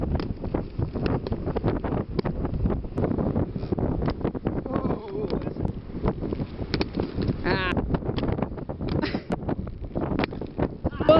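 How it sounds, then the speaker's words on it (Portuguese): Strong wind buffets the microphone outdoors at a street skating session. Heavy, uneven rumbling gusts run throughout, broken by brief skate clatter. "Mano, o vento tá sinistro,"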